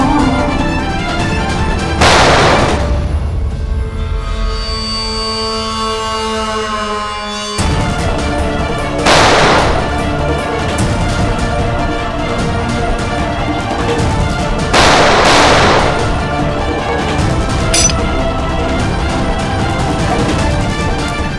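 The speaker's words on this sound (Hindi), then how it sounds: "मैं गोली चला दूंगा" Gunshots in a crime drama scene, several loud sharp bursts spaced a few seconds apart over a dense, loud soundtrack with music.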